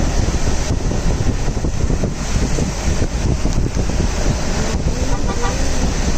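Heavy rain beats on a moving car, a loud, dense and steady wash of water and road noise that fills the whole stretch without a break.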